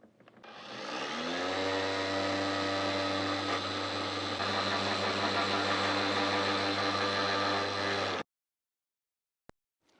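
A Hyper Tough brushless angle grinder spins up and runs at a steady, loud whine with a constant pitch for about eight seconds, then stops abruptly, followed by near silence and a faint click.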